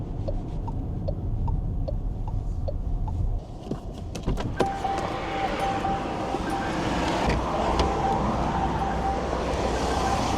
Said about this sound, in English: the car gives you a warning that you've left your charging flap open